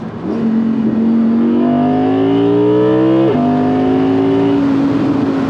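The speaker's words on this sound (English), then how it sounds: "the downshift from third to second is absolutely insane" A loud, close Audi R8 V10 Performance 620 PS engine drones steadily, then its pitch jumps sharply mid-way as the car downshifts from third to second, and it keeps roaring under load.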